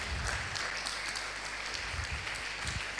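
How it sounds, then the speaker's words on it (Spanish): A church congregation breaks into applause during a pastor's sermon. The clapping is loud and sustained, with a few sharper claps standing out over a rumbling room tone. "Dale un aplauso al Señor."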